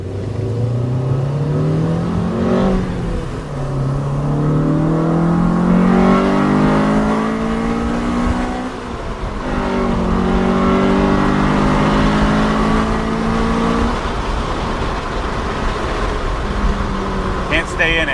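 A Honda EM1 Civic Si engine with VTEC revs high to the red line and climbs repeatedly through the gears, loud and close, with brief drops between pulls.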